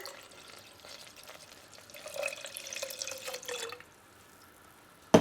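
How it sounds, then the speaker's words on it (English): Water runs from a tap into a pot for a few seconds, a soft splashing stream that rises in pitch and then stops abruptly. "So we're going to go in with 2 cups of water."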